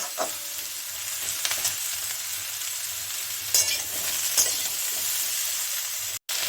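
Potatoes and drumstick pieces fry in a pan with a loud, close sizzle and scraping stirs, a steady crackle with a few sharper clinks, no voices.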